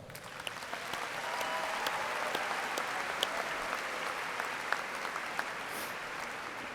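An audience at a university commencement ceremony applauds at length, a broad sustained clapping from a large crowd in a big hall, steady and fairly distant with a few sharper claps standing out.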